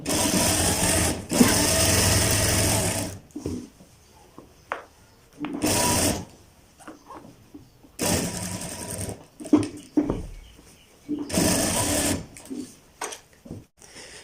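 A sewing machine stitches a designer cuff in loud, close bursts of rapid whirring, several runs of a few seconds each separated by short pauses with handling noises.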